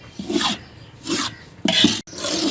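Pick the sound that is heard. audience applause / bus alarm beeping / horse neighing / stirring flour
stirring flour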